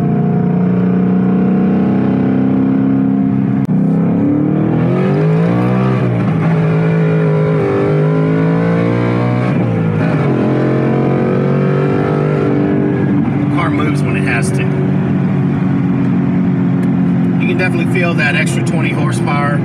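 A 2019 Ford Mustang Bullitt V8 with active exhaust left in its loud mode, its engine droning and rising in pitch through several revving pulls, heard close and steady throughout while a voice talks over it.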